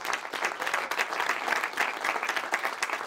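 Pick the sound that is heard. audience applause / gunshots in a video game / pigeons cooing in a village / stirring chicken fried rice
audience applause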